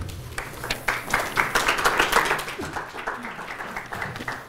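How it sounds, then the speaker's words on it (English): Audience applause fills a lecture hall at a Brookings event as a speaker comes up: dense, steady clapping from many hands, fairly close and sustained for several seconds with a slight swell in the middle. "Applause at the beginning is very good"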